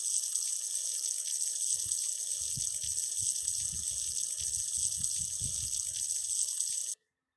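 Water runs steadily from a tap to rinse shampoo bubbles off, a continuous close hiss with some soft splashing that stops abruptly at the end.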